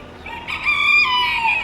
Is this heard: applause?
no